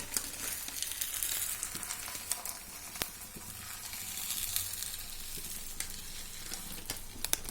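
Bobbatlu, the sweet stuffed flatbread, sizzles in oil on a pan: a steady frying hiss with scattered crackles and sharp pops, close by and continuous, with no speech.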